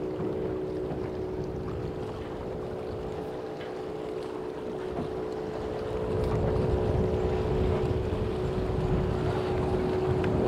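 Gusty south wind blowing across a lake on a clear December day, a steady broadband rush with microphone buffeting that swells louder in the second half, accompanied by a faint steady hum.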